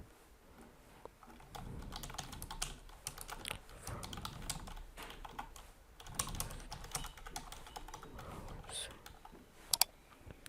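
Quiet, close typing on a computer keyboard, heard as irregular bursts of light key clicks at a steady working pace with brief pauses, and no voice over it.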